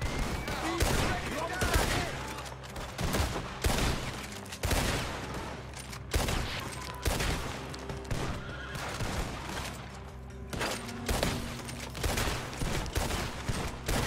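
Rapid gunfire crackles through a Red Dead Redemption 2 shootout, dense volleys of shots over horses whinnying and hooves, loud and continuous, with a player's voice talking at times amid the fight.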